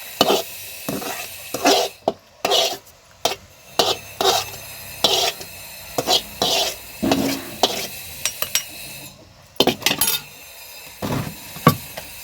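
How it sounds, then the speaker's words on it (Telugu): Roasted, peeled peanuts being pounded in a stone mortar for chutney: a steady run of dull, gritty thuds and grinding strikes, close and fairly loud, in regular bursts with short gaps and no talking. "ఇప్పుడు రోట్లో వేసుకొని దంచుకుందాం"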